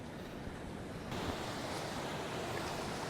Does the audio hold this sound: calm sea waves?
yes